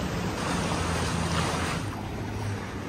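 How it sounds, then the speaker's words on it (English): Sea waves wash and break near coastal sea caves beside a sailboat, a constant loud roar of surf and water tangled with heavy wind buffeting on the microphone, without speech. "sometimes the waves are breaking in on me"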